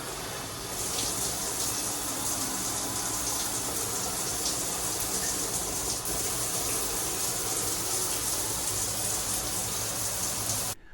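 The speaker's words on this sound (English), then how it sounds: "the shower fixture had multiple shower heads available for us to use" Water from a cruise suite shower with multiple shower heads runs in a steady, loud, unbroken hiss from start to finish, then stops abruptly at the very end.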